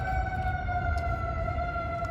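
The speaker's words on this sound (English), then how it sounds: "Thank you for the siren." An emergency vehicle siren wails steadily and fairly loud outdoors in Sacramento, a sustained tonal howl over low traffic rumble with no talking.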